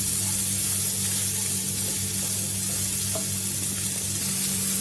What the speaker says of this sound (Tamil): இப்போ நம்ம போட்டிருக்கிற வெஜிடபிள்ஸ் எல்லாம் நல்லா வேகட்டும்.